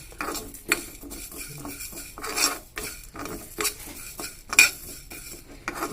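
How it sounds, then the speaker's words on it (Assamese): Spices for an Assamese lemon pickle with ginger and chillies, with fenugreek added, are stirred and fried in a pan, a spoon scraping and clinking against the metal in irregular bursts over a faint sizzle, close and with no talking. "আৰু একেলগে এইখিনি মই এতিয়া একেলগে ভাজিম।"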